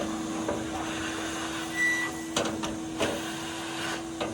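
A gutter vacuum runs with a steady, droning motor hum while sucking pine needles out of a roof gutter, with a few sharp clacks and rattles of debris passing through the tube.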